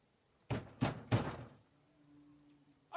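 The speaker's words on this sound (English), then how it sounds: "Knock, knock." Three heavy knocks on a wooden door in Kingdom Come: Deliverance 2, thudding close and loud in an uneven rhythm, then a faint low hum and silence.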